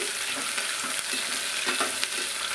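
Thick-cut onions fry in hot oil in a pan for kushka, giving a steady close sizzle broken by soft stirring scrapes.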